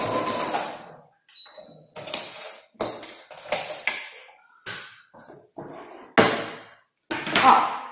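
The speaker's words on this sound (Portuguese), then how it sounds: "Já vamos costurar esse zíperzinho aqui." Home sewing machine stitching a small zipper, heard as a series of short mechanical bursts of stitching separated by pauses, close and moderately loud with no talk.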